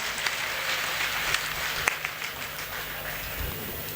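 An audience applauding at an all-India Hindi poetry gathering in Ayodhya, a steady wash of clapping that holds for several seconds at moderate volume, with no talk over it.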